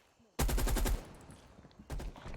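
Gunfire in a first-person shooter crackles out as a loud, fast burst of close shots, pauses briefly, then comes back as a second, somewhat quieter rattling volley, with no speech.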